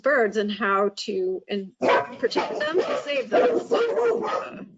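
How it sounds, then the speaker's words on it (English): Dogs bark and yip in short repeated bursts near the start, close and loud, then a person keeps talking over the quieter background. "Sorry about my dogs."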